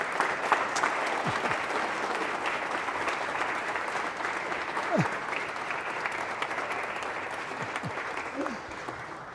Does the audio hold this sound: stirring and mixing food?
no